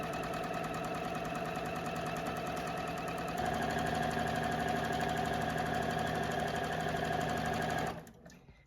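A JUKI sewing machine stitching fabric strips, a steady rapid mechanical whir with rhythmic needle chatter that speeds up slightly midway, then stops abruptly near the end.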